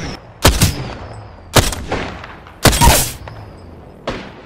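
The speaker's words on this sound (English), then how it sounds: "Opening fire." Gunfire in Apex Legends, four sharp, loud shots or short bursts spaced about a second apart, each with a booming tail, heard close up with no talking.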